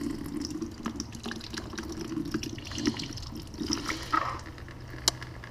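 Coolant drains steadily out of a 2011 KTM 350 SX-F motorcycle, a continuous trickling, splashing stream of liquid heard up close with a few brighter drips near the end.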